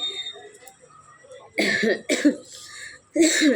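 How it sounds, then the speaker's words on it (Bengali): Three harsh coughs close to the mic, two in quick succession and a third after a short pause, over a quiet background. "দেখতেই পাচ্ছ কাশিও আবার একটু হয়ে গেছে"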